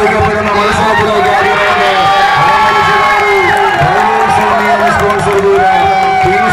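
A crowd at a semi-final match in Kottakkal roars and cheers nonstop, loud and close, with many voices shouting and whooping over one another.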